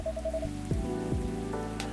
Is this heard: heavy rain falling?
yes